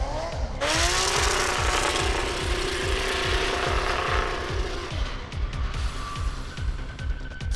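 A drift car with a large-displacement engine revs hard and close, its pulsing exhaust climbing and dropping in pitch as the throttle works, with harsh roaring bursts and rising engine whine throughout.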